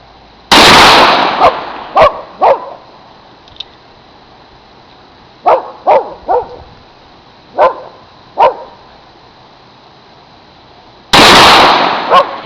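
Ruger Super Redhawk and Super Blackhawk revolvers fired outdoors: two very loud sharp gunshots at the start and end, with brief barks from a dog in between.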